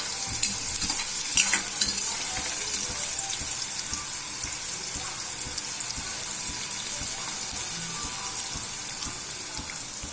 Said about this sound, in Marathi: आपण कांदे टाकल्यानंतर त्याला कंटिन्युअसली हलवायचं आहे, जेणेकरून ते खाली लागणार नाही।